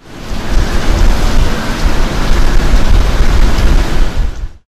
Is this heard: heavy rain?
yes